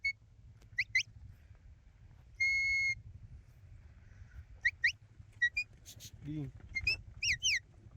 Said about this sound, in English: I just called Ross off with a big whistle.